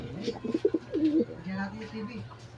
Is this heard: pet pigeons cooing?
yes